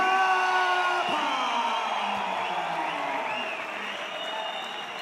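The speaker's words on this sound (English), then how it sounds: "Make some noise for Wes Kappa!" A crowd at an MMA event applauds and cheers loudly, a dense wash of clapping that fades slightly toward the end, with a voice faintly audible over it.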